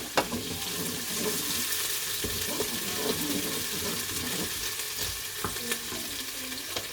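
Onions fry in hot oil with a steady close sizzle and scattered clinks and scrapes from stirring, fairly quiet and without speech.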